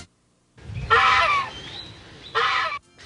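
A goose gives two loud, harsh honks close by, separated by a short pause, with quiet background between calls.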